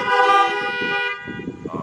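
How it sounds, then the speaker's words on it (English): Car horns sound in a church parking lot, a loud sustained blare with layered tones that fades after about a second. A lower, softer horn or engine murmur follows. "And all God's cars honk twice."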